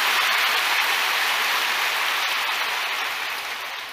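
A church congregation at a Sunday worship service breaks into loud, dense applause, a continuous hiss of many hands that holds steady and then gradually fades toward the end.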